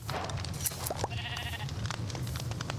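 Sheep bleating in the Minecraft video game, a couple of short wavering bleats over steady background game music and ambience.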